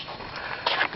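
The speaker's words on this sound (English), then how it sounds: "Look at that dog." A dog vocalizing nearby in a short burst, a soft whine followed by a sharper yip-like cry toward the end, brief and close.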